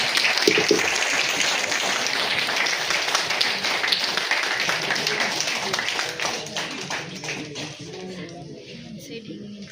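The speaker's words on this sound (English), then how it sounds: "Please, a big round of applause." An audience at a World Mental Health Day event applauds in a sustained, dense round of clapping. It stays loud for several seconds, then gradually thins and tapers off.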